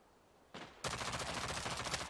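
A single sharp shot comes first, then a loud, fast, sustained string of automatic gunfire rattles on in the shooter game Rogue Company.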